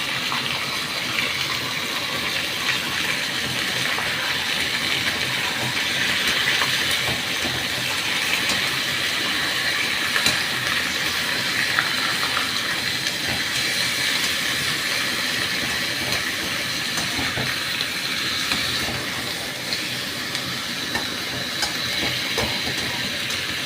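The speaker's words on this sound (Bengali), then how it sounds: "আঁচ বাড়িয়ে দিয়েছি একদম হাই করে দিয়েছে চড়া আঁচ করে দিয়েছে চিকেনটাকে এবার ওপর নিচ করছে" Chicken pieces stir-frying on a high flame in a pan with bay leaves, cardamom and ginger-garlic paste, giving a loud, steady, close sizzle throughout with no talk over it.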